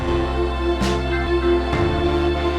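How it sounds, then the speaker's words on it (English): A 1970s soul-style loop run through Logic's vintage console EQ with the drive maxed for saturation, giving a dense, thick, slightly gritty mix of drums, bass and keys with a couple of sharp hits, loud and continuous throughout. "I just drive all the way up to 11 so that this vintage EQ plugin gives just the saturation of the vintage EQ"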